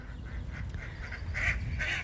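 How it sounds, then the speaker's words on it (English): Ducks quack at a shoreline in a short, continuous run of calls over steady outdoor noise, moderately close and clear. "Good to see the ducks."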